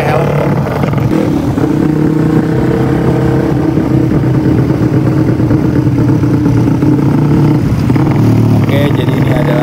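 A restored Jupiter MX old motorcycle with a 174cc racing-concept engine runs steadily in a loud, continuous drone, with the engine sound close and unbroken throughout.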